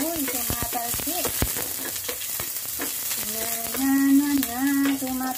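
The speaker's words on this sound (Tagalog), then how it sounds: "Tumatalsik ang ating bawang." Garlic fries and spatters in hot oil in a wok while making simple garlic fried rice, sizzling steadily with quick pops and sharp crackles throughout, growing louder and denser toward the end.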